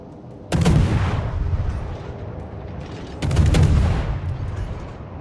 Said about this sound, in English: A lot of shells come out very quickly.